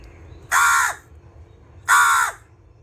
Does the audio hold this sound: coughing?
no